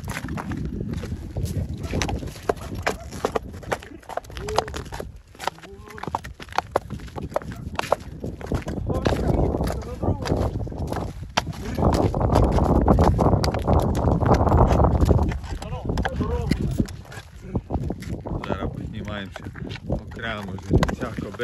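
A black Arden draft stallion walks with steady, heavy clip-clopping hooves, close by and continuous, while people talk over the sound outdoors in light wind.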